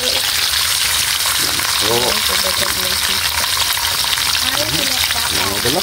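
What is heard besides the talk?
stirring bones and meat in a pan for pork kaldereta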